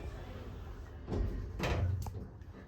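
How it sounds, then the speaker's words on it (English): A KONE Ecodisc lift door, installed in 2017, slides shut with a soft rumble and a muffled thud as the panels meet, heard close up in a quiet car. "Door close works."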